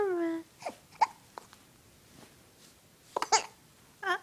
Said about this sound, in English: You coughing?